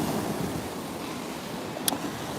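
Surf and waves wash steadily along Myrtle Beach in South Carolina, a broad continuous rush mixed with wind buffeting the microphone and one faint brief click near the end.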